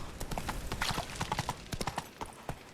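Roach the horse's hooves in The Witcher 3 clip-clop in a steady, quick rhythm, moderately quiet and close, with no talk over them.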